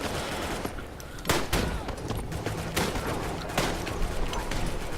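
Gunfire in the WWI shooter Tannenberg: a steady crackle of distant rifle and machine-gun fire, broken by several loud, sharp shots that stand out close by.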